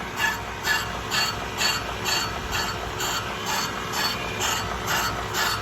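Steady mechanical whirring with a faint rhythmic scraping pulse, about two per second, as a car brake lathe cutter lightly grazes a spinning brake rotor.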